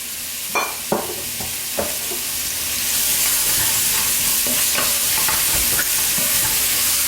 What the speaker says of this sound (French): je gratte un peu au fond pour récupérer les sucs de viande